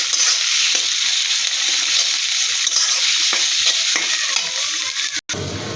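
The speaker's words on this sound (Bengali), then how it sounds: "আমি চিংড়ি মাছের মাথা ফালাই নিয়ে বেটে নিয়েছি, দিয়ে দিলাম" Ground shrimp heads fry with greens in a hot pan: a loud, continuous, close sizzle with stirring scrapes throughout, ending in a brief sharp cut.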